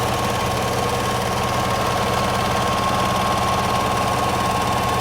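A 1973 Kodak Moviedeck 455 8mm projector motor spins steadily, a loud, close, continuous mechanical whir with a rapid rattling pulse and a constant hum, with no talking over it.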